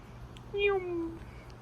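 A single short meow from a cat out on a plant-filled porch balcony, rising and then falling in pitch over about half a second against quiet outdoor background hum.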